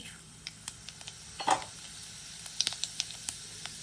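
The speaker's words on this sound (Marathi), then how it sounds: "आपली जिरे मोहरी छान तडतडली आहे" Mustard and cumin seeds pop and crackle in hot oil in a wok, a scattering of sharp little snaps over a faint sizzle, quickening toward the end.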